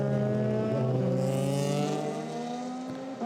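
A Euroformula Open single-seater race car screams past during qualifying at the Hungaroring, its high engine note loud and close and then dropping in pitch as it goes by.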